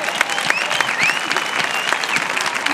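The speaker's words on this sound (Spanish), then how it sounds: "Dale, dale, dale un aplauso, por favor." A crowd gathered for a flash mob in Pamplona on International Women's Day claps and cheers for a steady stretch, loud and dense, with a few whoops rising over the clapping.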